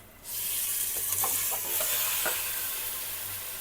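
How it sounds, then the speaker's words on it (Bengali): Marinated potatoes with fried onions go onto the stove and sizzle steadily in a pan, a close, even frying hiss broken by several light scrapes and taps of a spoon stirring. "এখন দিয়ে দিচ্ছি চুলায় সুন্দর করে কষিয়ে নিব"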